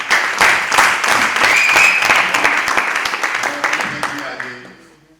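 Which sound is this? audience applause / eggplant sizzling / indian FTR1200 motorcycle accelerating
audience applause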